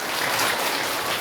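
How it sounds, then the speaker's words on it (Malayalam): Children clap together in a brief, dense burst of applause, an even patter of many hands with no pauses. "ഒന്നുകൂടെ കൈയടിക്ക്."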